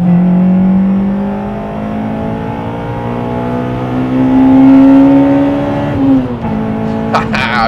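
Loud car engine pulling hard in third gear, its pitch climbing steadily for several seconds before easing off, with a few clicks near the end.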